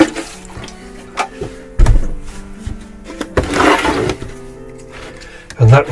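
Water runs into a garden tray to soak plants, with intermittent splashing bursts and clattering knocks of the tray, loudest near the middle and end.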